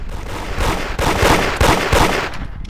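Gunfire in the Roblox game Da Hood rings out as rapid bursts of loud shots in quick succession, with a few heavier cracks standing out near the middle.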